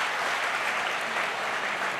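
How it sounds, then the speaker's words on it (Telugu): Audience of students applauding at a live event, a dense, steady burst of many hands clapping close by, with no voices breaking through. "గట్టిగా చప్పట్లు కొట్టాల"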